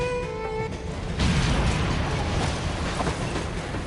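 Train rolling on rails in a video game, a steady loud broadband rumble with faint clatter that swells after a soft tonal opening and continues without voices.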